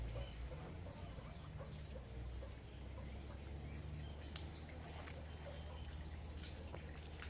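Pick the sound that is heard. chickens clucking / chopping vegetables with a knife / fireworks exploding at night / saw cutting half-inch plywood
chickens clucking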